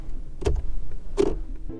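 A flimsy, cheap-feeling sun visor in a 2026 Mazda 3 being flipped and moved, giving two short plastic clunks about a second apart, close and clear inside the quiet cabin.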